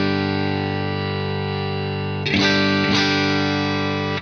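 Electric guitar run through a Wampler Ego 76 compressor pedal with its tone control being adjusted: a sustained, steady distorted chord rings alone, then is re-struck twice, brightening and rising in level.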